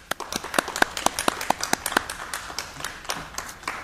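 A small group claps for graduating students at a high school graduation, sparse distinct claps in an uneven rhythm, fairly close and moderately loud, thinning out toward the end.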